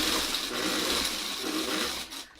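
A sewing machine stitching a Y seam in fabric runs steadily and close up as a continuous whirring drone, then slows and tapers off near the end.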